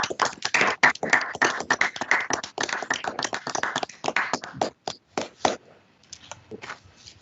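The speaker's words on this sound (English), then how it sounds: "please unmute your microphones and wish these newly admitted attorneys congratulations and give them a" Scattered clapping from many people over unmuted microphones in a virtual court admission ceremony, uneven bursts of hand claps close to the mic, thinning and fading out toward the end.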